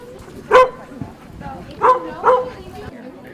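Small dogs in costume at a Halloween puppy parade at a senior living center let out three short, sharp yips and barks, spaced apart, over steady background chatter from people nearby.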